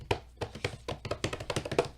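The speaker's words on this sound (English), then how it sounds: "A flurry of footsteps." A quick, close flurry of footsteps, a dense run of light taps and thumps at an irregular, hurried rhythm. No one speaks over them.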